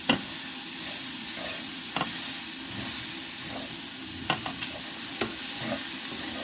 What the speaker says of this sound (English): when garlic hits the pan, you really need to give it time to breathe